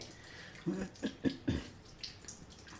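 Water splashes and sloshes as soaked lentils for vadas are rinsed by hand in a bowl, several distinct close splashes in quick succession followed by fainter trickles.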